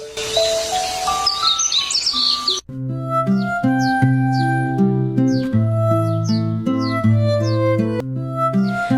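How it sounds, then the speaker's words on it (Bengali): Birds chirp and sing steadily on a quiet misty morning over golden rice paddies in the countryside, with several overlapping calls and repeated bright tweets close by after a brief softer opening. "পাখির কিচিরমিচির শব্দ দিয়ে দিন শুরু হয়।"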